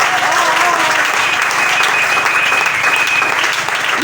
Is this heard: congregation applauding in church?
yes